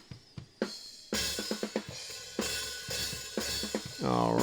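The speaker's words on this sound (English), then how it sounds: "We've got a Sennheiser 421 on the hi-hat right now." A hi-hat captured by a Sennheiser 421 microphone during a studio drum session ticks and splashes in steady rhythm, with kick and snare hits around it and a washy cymbal swell at the end.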